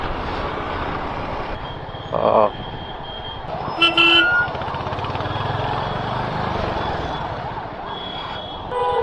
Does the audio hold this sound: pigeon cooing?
no